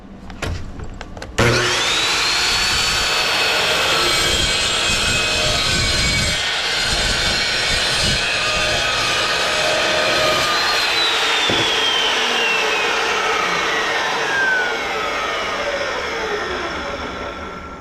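A power saw slices through a 15-inch length of clamped metal stock, a loud sustained high-pitched cutting whine with a sharp start and a gradual wind-down at the end, alone without talk.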